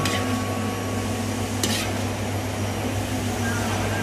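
A steady hiss of frying in hot oil fills the clip, close and even, with a faint clink partway through.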